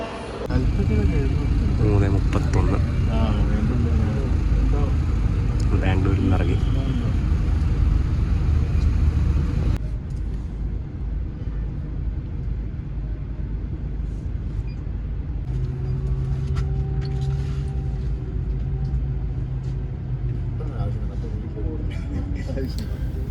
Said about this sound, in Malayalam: നമ്മളങ്ങനെ മൈസൂർ റോഡ് ബസ് സ്റ്റാൻഡിൽ നിന്ന് പുറത്തേക്ക് ഇറങ്ങുകയാണ്